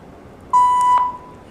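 A Wi-Fi smart camera gives a single clear electronic beep lasting about half a second as it resets, close and loud over faint room noise.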